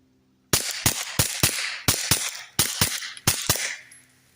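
Rapid string of about ten sharp, suppressed .22 rifle shots through an AAC Element 3 suppressor, fired into dirt outdoors, each crack loud and close with brief decay, evenly spaced and uninterrupted by talk.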